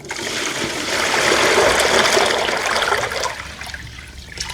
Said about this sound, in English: I got my 5-gallon bucket of water right here, and once I get to the car show, I empty this out into my so-called pond right here